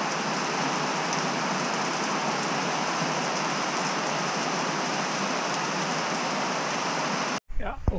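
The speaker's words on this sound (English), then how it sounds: "Still raining, little. But, yeah, what a day. Raining all day." Light rain falls steadily and continuously outdoors on a wet day, a constant close hiss of drops on surfaces that cuts off abruptly near the end, followed by a brief faint sound.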